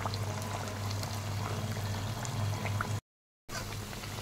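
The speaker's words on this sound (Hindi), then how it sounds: "गोल्डन होने तक इनको फ्राई करेंगे।" Aloo sabudana tikki sizzle and crackle in hot oil, a steady close hiss that drops out briefly before resuming.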